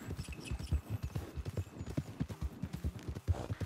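Horse hooves clip-clopping in the video game Red Dead Redemption 2, a steady rhythmic run of close, distinct hoof strikes on firm ground at a brisk walking pace.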